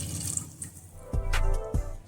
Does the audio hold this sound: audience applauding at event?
no